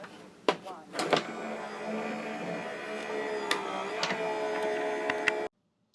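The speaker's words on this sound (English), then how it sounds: "Let me just run it through my Sizzix switch." A Sizzix die-cutting machine rolls a die and card through for about five seconds, giving a steady mechanical grinding whir with a few clicks at the start, then stops abruptly.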